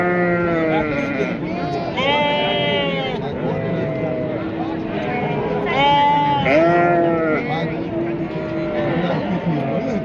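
Sheep bleating repeatedly at a busy livestock market in Samarkand, several loud overlapping calls close by with a steady crowd murmur behind them.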